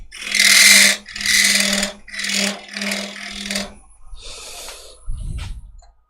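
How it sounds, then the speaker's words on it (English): A woodturning tool cuts a small dovetail into a piece spinning on a lathe, giving four rasping scrapes in quick rhythm, then lighter touches and a soft thump. "Put a little tiny dovetail on it."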